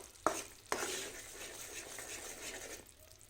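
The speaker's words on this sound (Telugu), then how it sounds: "ఈ బెల్లం బాగా కరిగి కాస్త నురగలుగా వస్తే సరిపోతుంది." Jaggery melting and frothing in a pan while sesame laddus are made: a steady soft sizzle and bubbling, opened by two quick clinks of a spoon against the pan.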